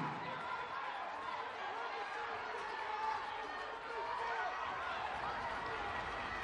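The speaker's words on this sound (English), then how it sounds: "You hear the crowd." Crowd noise at a girls high school basketball sectional game between South Side and Homestead in a gym, a dense continuous roar of cheering and chatter rising during a tense two-point game.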